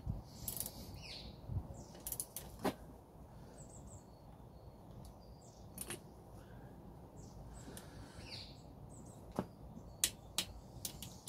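A ratchet torquing down camshaft bolts on a Yamaha XJ650 motorcycle engine gives faint, irregular clicks over a steady background hiss, with no talking.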